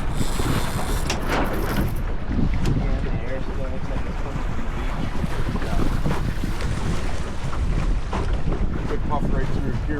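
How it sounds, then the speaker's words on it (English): Strong wind gusts roar across the microphone aboard a racing sailboat during a regatta race, a loud continuous rush with water and hull noise throughout, while people speak briefly over it. "Good puff right through here right now."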